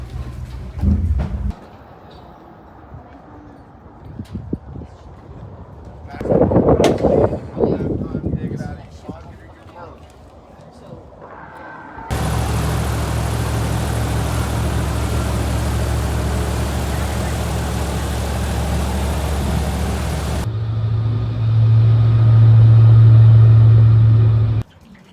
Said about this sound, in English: About to go on some airboat rides.